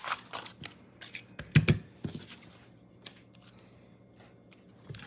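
Scissors snipping out a paper happy birthday sentiment for a handmade card, a close, quiet run of short cuts and paper rustles with irregular pauses.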